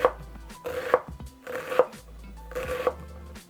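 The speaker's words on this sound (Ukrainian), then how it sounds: "І тепер мілко нарізаю." Knife finely chopping onion on a board, four quick bursts of close, crisp cutting strokes in a steady rhythm, with no voices.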